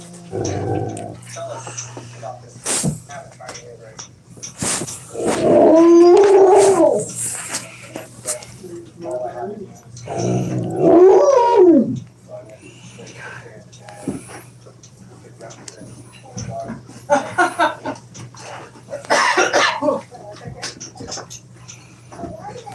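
A pet dog whines and howls indoors in two long drawn-out bursts, with softer whimpers between them. People talk through much of the scene.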